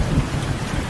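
Rain falls on a house roof at night as a dense, steady hiss with a low rumbling undertone, heard briefly and loud with no voices.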